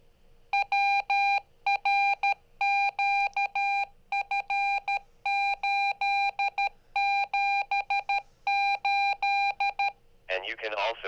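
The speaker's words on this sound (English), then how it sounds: "You can also do your call sign in Morse code like this." Electronic beeps tapping out a call sign in Morse code as a GMRS/ham repeater ID, steady tones in rhythmic groups of short and long pulses, followed by a brief burst of garbled radio noise.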